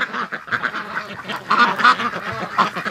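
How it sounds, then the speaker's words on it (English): Several ducks quack outdoors by a barn gate, a busy, overlapping chorus of nasal calls with louder bursts rising and falling throughout, close by and with no talking. "as soon as I come outside, bang, they start quacking."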